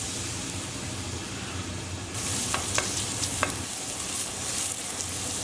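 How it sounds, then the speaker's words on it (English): Onions dropped into hot oil in a pan over medium heat sizzle steadily, a close, even hiss that swells partway through, with a few light clicks of a utensil against the pan. "And we'll add our onions straight in."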